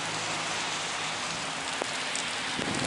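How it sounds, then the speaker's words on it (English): Steady rain mixed with slushy snow falls outdoors under white skies, a dense continuous patter on surfaces with no break, close and even throughout, with no one speaking. "We got rain and snow."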